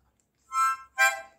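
Mouth organ sounded by blowing through a tube held over its holes: two short, bright reedy bursts in quick succession after a brief silence, close and fairly loud.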